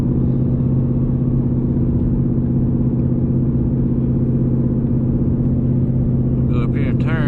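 A 2018 Mustang GT engine cruises at a steady low rumble of about 2,000 RPM at 57 mph, heard continuously from inside the car, with a brief voice near the end.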